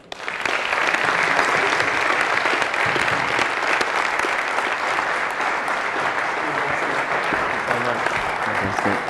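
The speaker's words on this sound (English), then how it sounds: "Big round of applause, please" Sustained, loud audience applause fills a book launch, steady dense clapping from a sizeable crowd holding for several seconds after a burst at the start.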